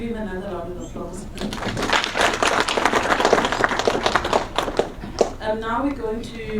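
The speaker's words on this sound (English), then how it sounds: "Can we give him another round of applause?" An audience claps through a round of applause at the King Moshoeshoe memorial lecture in Lesotho, with dense, steady clapping swelling in the middle and a voice speaking faintly at the start and end.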